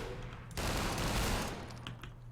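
Rapid pulse rifle gunfire from the video game Entropy: Zero 2, a loud, dense burst of automatic shots that starts abruptly and holds steady for over a second before tapering off, with no talking.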